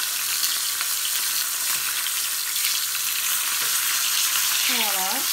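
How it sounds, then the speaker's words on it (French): A whole floured fish frying in oil in a pan, with a loud, dense, continuous crackling sizzle close by and a brief squeaky sound near the end. "c'est le poisson entier, j'ai mis dans ma poêle"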